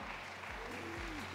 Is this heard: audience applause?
yes